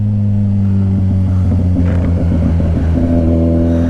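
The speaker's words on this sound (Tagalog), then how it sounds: "Traffic." Motor traffic rolls through a tunnel, a loud reverberant engine drone with rising and falling revs as vehicles pass close by, steady for the whole stretch with no talking.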